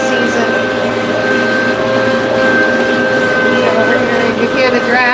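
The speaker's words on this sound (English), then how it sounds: "You hear the drag on the tractor because I'm picking up more material" A heavy tractor engine drones steadily under strain while picking up more material, loud and continuous, with a rough mechanical rumble and a constant whine throughout.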